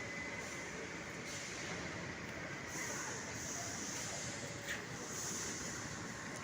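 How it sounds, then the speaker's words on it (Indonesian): Sugar cane locomotive number 8 hauling wagons fully loaded with sugar along narrow-gauge rails, giving a steady rumbling rail noise with occasional faint squeals throughout. "ini dia lokomotif nomor 8 sebentar lagi akan bersiap mengantarkan lori gula ini yang sudah penuh terisi gula"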